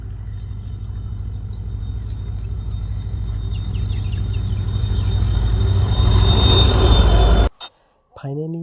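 A train pulls into a station: a low rumble swells steadily louder over several seconds, with thin metallic wheel squeal above it, before the sound cuts off abruptly.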